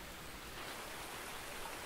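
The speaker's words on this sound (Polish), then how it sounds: "Czyli taki przelotny deszczyk." Light passing rain in Farming Simulator 19, a steady soft wash of falling drops with no breaks, faint and even throughout, no voices.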